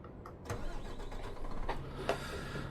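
A Renault truck engine cranks and starts in Euro Truck Simulator 2, a short burst of starter noise settling into a low, steady idle with a couple of sharper clunks.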